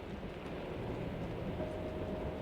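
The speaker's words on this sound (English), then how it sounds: "swayed by the soothing motions of the train" A train rolling along rails in steady motion, a low, continuous rumble with faint rhythmic rattling and a soft tonal hum, quiet and even throughout.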